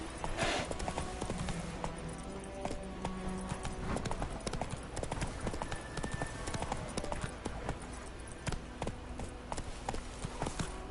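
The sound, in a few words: Geralt's horse Roach galloping in The Witcher 3 video game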